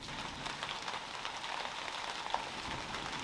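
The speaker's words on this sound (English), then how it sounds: "I was surprised to see a rainstorm at that time of year" Steady rain falls in a rural village setting, a soft, even hiss of drops on surfaces with no talking.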